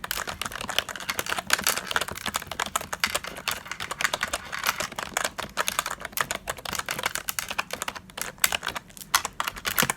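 Rapid continuous typing on an old, dusty computer keyboard, dense clicky keystrokes in a steady close-up stream lasting the whole stretch, with no voices.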